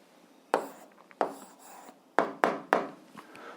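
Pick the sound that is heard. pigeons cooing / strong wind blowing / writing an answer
writing an answer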